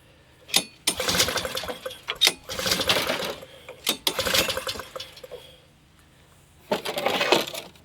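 A Honda HS520 snowblower engine being started: several bursts of pull-starting and sputtering cranking separated by short silences, close and fairly loud.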